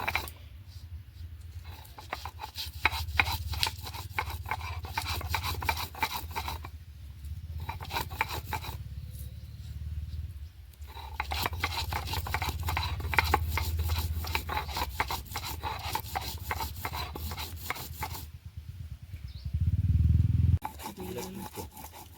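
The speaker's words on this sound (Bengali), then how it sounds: "এই লঙ্কাগুলো একটু শুকনো হয়ে গেছে, এই শিলে ফেলে বেটে নেবো" Dried green chillies being ground on a stone slab (shil) with a grinding stone: steady rough rubbing and rasping strokes in repeated bursts, broken by short pauses, close and fairly quiet.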